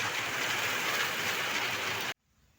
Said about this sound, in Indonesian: hujannya lumayan deras teman-teman